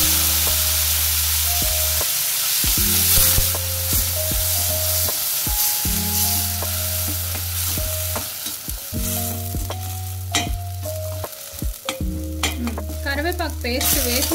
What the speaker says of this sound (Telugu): జీడిపప్పు వేగిన తర్వాత ఈ పేస్ట్ చేసుకున్న కరివేపాకు పేస్ట్ని వేస్తున్నాను.